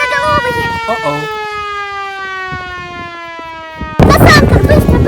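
Siren Head creatures wail with a loud, steady siren whose layered tones slowly slide downward. A sudden, louder, rough burst breaks in near the end, with voices faintly mixed in.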